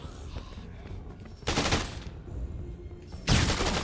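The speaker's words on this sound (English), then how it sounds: "now they're gonna be shooting me" Two sharp bursts of automatic gunfire from the Dead Rising 2 video game burst out over a low, steady background, with the second burst a few seconds after the first.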